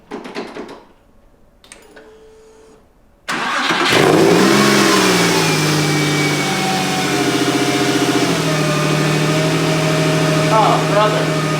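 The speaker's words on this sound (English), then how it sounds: "That's the sound of a healthy engine." A rebuilt Porsche 911 engine cranks and catches after a few quiet clicks and handling noises, then settles into a loud, steady run with rising and falling revs; a voice is heard briefly.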